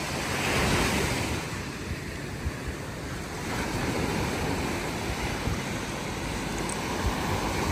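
Steady surf rolls and breaks continuously on a beach in Cape Verde, with wind buffeting the microphone throughout; no voices.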